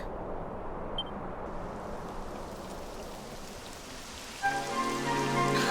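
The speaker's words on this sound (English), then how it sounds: "It would have to go and start raining, wouldn't it?" Steady rain falls in the Dragon Quest XI video game, a continuous even hiss of drops that keeps going throughout, with a short tonal game chime joining near the end.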